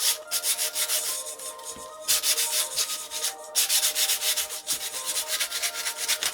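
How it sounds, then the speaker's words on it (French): Mirror frame being hand-sanded in quick rhythmic back-and-forth strokes, loud and close, with brief pauses between bursts. "je laisse sécher et ensuite, je viens poncer, là encore."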